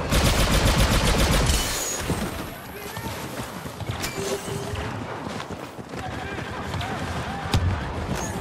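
Rapid turret fire in Star Wars Battlefront 2 multiplayer on Maz's Castle: a dense loud burst of shots at first, then scattered blasts and explosions under ongoing battle noise, with voices talking over it.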